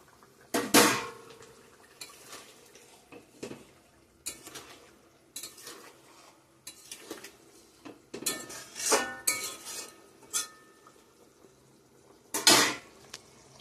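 Paneer being added to a curry in a pot and stirred, with repeated metal spoon scrapes, clinks and knocks against the pot coming in irregular bursts over a quiet background, close and fairly loud, no speech.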